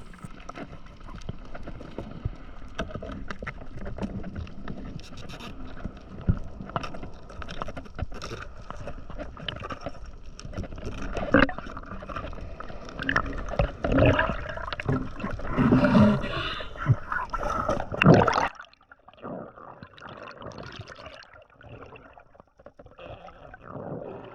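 Large sea waves and a strong current surge and roar close by in rough, continuous bursts, building louder before dropping off to a quieter wash near the end.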